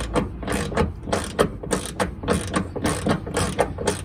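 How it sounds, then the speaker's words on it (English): A hand ratchet turning a half-inch deep socket to snug a hood strut bolt on a Toyota 4Runner, making a steady run of close, crisp clicks in quick repeated strokes. "Then grab your socket. I am using a half inch deep socket here."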